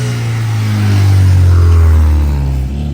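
A loud JDM Honda Integra with a K20 engine and silencer revs hard close by, a deep droning exhaust note swelling and holding high before easing off, raw and unmuffled, with no talking.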